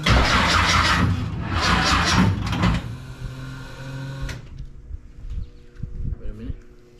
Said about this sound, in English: It's fired up.